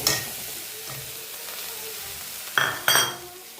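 Prawns and taro leaves fry in a pan with salt and turmeric, a steady soft sizzle running throughout, broken near the end by two sharp clinks and scrapes of a utensil against the pan.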